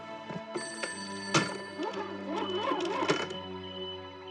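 Telephone ringing in a wartime command headquarters, repeated electric bell bursts at moderate distance with short gaps, fairly faint and alone without talk.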